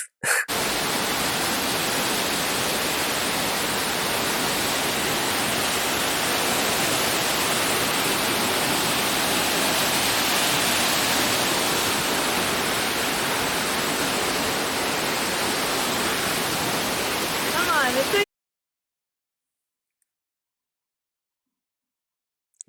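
A waterfall at the end of a stairway gives a steady, dense roar of rushing water, even and loud for about eighteen seconds before cutting off abruptly into silence.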